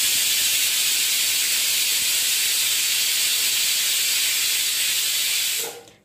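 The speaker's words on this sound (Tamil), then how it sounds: "ஸோ குக்கர் விசில் வந்துட்டுருக்கு," A pressure cooker cooking venpongal lets out a loud, continuous steam whistle, a close, unbroken hiss that holds steady for several seconds before cutting off abruptly.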